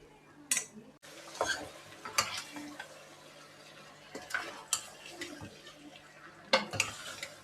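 Mutton curry with chukka kura greens stirred in a metal pot in a village kitchen, a ladle scraping and clinking against the sides in irregular knocks and clatters over quiet background.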